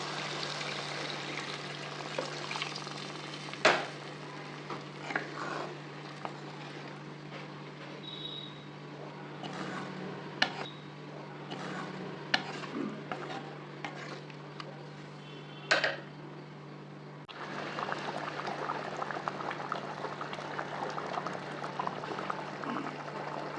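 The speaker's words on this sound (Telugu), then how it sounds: "ఇప్పుడు చింతపండు రసం పోద్దాం." Tamarind juice is poured into a simmering spicy fish curry, giving a steady soft bubbling and sizzling hiss with small splashes and occasional clinks, fairly faint and continuous throughout.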